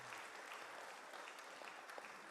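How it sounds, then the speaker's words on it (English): Steady applause from a meeting audience at a Hawaiian homestead lot orientation, a dense even patter of clapping held at one level for the full stretch, with no talk over it. "Let's all give him a round of applause,"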